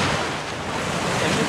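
Ocean waves washing along the shore at Jupiter Island, a steady broadband rush of surf mixed with wind buffeting the microphone, with no voices.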